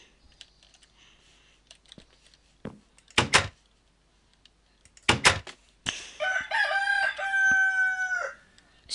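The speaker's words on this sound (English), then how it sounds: "It's Monday, and the rooster just did it." A rooster crows once in a Minecraft-style video game, a clear stepped call near the end, after scattered clicks, taps and two sharp knocking bursts.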